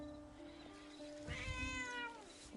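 Cat in the video game Where Winds Meet gives a soft, drawn-out meow over quiet background music, one clear call rising and falling in the middle of the moment.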